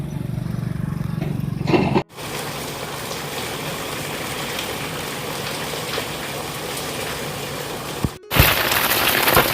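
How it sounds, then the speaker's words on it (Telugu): Steady rain falls over a village in a continuous, even hiss of drops striking surfaces, broken by two brief cuts before resuming at the same strength. "ఫుల్ వర్షం పడుతుంది"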